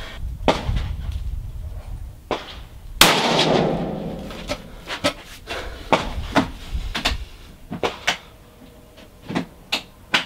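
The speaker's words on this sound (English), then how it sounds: "I really do enjoy shooting this gun" Bergara LRP Elite rifle fired outdoors, one loud sharp crack with a lingering rumble followed by a series of quieter clicks and knocks, likely bolt and handling noises, spaced irregularly.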